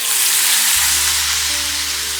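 Soaked moong dal drops into hot oil in a kadai, setting off a loud, steady, broadband frying sizzle with a low thud as it lands, continuing alone without any voices.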